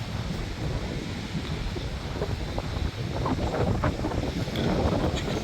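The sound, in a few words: wind on the north coast of Fuerteventura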